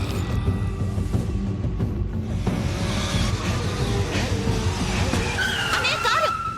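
A car skids across a road with a loud, sustained rush of tire and engine noise, and a sharp tire squeal rises near the end; the dense roar fills the whole stretch.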